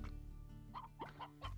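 Chickens in the video game Slime Rancher let out several short, quiet clucks in uneven succession, close by and faint over a low hum.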